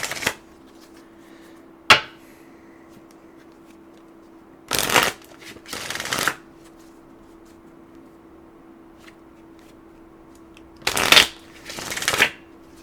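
A deck of cards being shuffled for a tarot-style card reading, in four or five short, crisp riffling bursts separated by quiet pauses, close and clear with a faint steady hum underneath.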